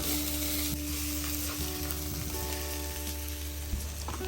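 Beans curry fries in a pan as chili powder is added, a loud, close, continuous sizzle with occasional stirring scrapes, a background hum, and no talking.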